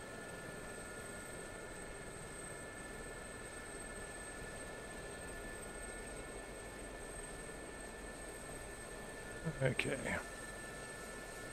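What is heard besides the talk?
Gazelle helicopter flying in DCS video game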